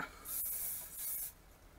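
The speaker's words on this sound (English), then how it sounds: "you just spritz it with hairspray a little bit" Hairspray spritzed onto backcombed hair, two short hissing sprays in close succession, the first longer than the second, heard close up with no talking.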